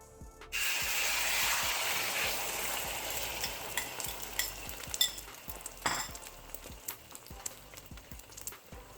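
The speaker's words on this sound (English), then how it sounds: "this is where we're gonna throw the eggs in" Eggs hit hot oil in a pan for halibut fried rice and a loud, steady sizzle starts almost at once, with occasional light clinks and stirring scrapes over the frying.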